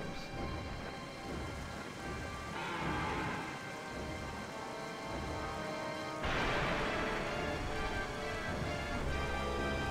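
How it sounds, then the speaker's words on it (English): Thunderstorm with heavy rain in the video game Zelda: Twilight Princess, a dense steady downpour broken by two loud thunder cracks, the second rolling on into a deep rumble. "Thunderstorms."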